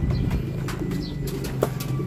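A racing pigeon arrives at its loft after a 53 km training flight, with close, soft cooing and brief wing flutters over a steady outdoor background, with no talk.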